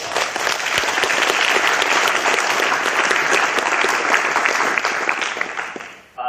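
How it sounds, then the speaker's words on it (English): Sustained audience applause fills a lecture hall after a talk, a dense steady patter of many hands clapping that holds for about six seconds before abruptly dropping off. "Let's give them a quick round of applause again."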